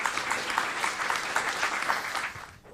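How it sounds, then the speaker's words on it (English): A room full of listeners gives a round of applause at the end of a book talk on Philadelphia, the clapping dense, steady and fairly close before it fades out near the end. "round of applause for Brett and his incredible book."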